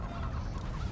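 Chickens cluck and squawk in a video game, a brief, loud, honking flurry of fowl calls packed into under a second.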